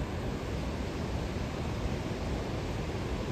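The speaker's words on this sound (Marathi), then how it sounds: "इथे पाण्याचा आवाज एवढा शांत वाटतंय ना पाण्याचा आवाज ऐकायला" River water rushes steadily near a small dam, a continuous, even wash of flowing noise with no breaks and no voices.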